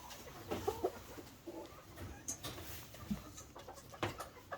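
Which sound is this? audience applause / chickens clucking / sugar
chickens clucking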